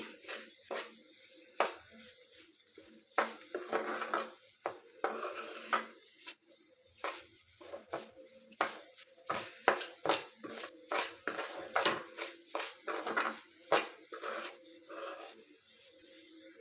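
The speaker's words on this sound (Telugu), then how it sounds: "రవ్వ చూసారా చక్కగా నేతిలో ఎలా అయితే వేగుతుందో" Semolina roasting in ghee for rava kesari, stirred in a pan with a metal utensil, giving a rhythmic run of close scraping and clinking strokes at a steady pace.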